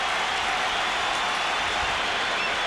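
At the 1995 MLB All-Star Game, a large stadium crowd claps and cheers in a steady, broad wash of applause that carries through the whole clip without pause.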